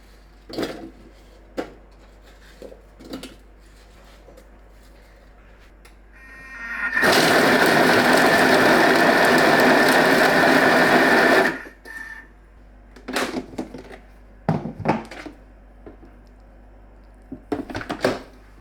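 A Thermomix chops fruit and onions in a loud, steady whirring burst of about four seconds, framed by quieter clicks and handling noises before and after.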